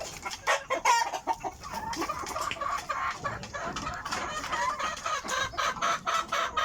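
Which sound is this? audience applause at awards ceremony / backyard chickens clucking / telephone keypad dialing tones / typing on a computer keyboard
backyard chickens clucking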